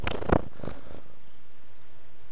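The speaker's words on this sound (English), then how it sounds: "He just purred right into the microphone." A cat purrs right up against a microphone, giving a few close, rumbling pulses at the start that quickly fade to near silence.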